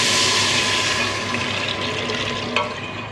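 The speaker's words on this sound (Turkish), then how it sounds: "Üstüne de 1 litre su ekliyorum." About a litre of water poured into a pot on a home stove, a steady rushing splash over a loud range-hood fan hum, fairly close, with a small clink near the end.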